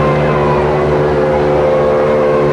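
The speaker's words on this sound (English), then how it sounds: "the Mary is booming out in triumph with her own mighty sirens for the whole of New York to hear" Loud, sustained horn of the ocean liner RMS Queen Mary booming in New York in a steady deep blast with rich harmonic tones, holding without a break.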